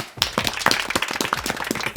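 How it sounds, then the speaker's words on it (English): A short burst of scattered clapping from a small group, sharp close hand claps in a quick irregular rhythm. "Applause for Henley"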